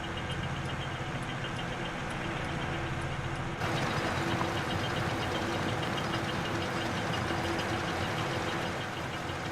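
Tractor engine in the farming game Farming Simulator 22 drones steadily at a low, even level, growing slightly louder partway through, with no voices.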